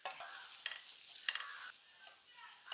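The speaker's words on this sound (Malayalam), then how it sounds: "അരമുറി തേങ്ങയാണ് കേട്ടോ അതൊന്ന് ഇട്ട് കൊടുക്കാം വറുത്തെടുക്കണം" Soft sizzling and scraping of grated coconut being stirred and roasted in a dry pan, with a few light clicks of a spoon against metal; no voices.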